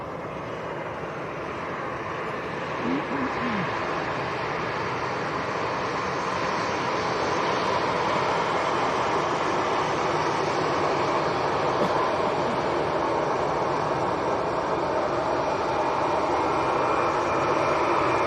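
An EasyJet Airbus A320neo jet taking off from Leeds Bradford Airport, starting from Taxiway Alpha, gives a steady, broad engine roar that builds slightly and holds loud throughout, with no talk over it.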